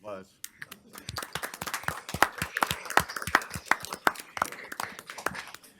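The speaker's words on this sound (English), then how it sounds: "Round of applause." Scattered applause breaks out in a legislative town hall meeting right after a motion passes, a modest group clapping with uneven, sharp hand claps close by, mixed with some background voices.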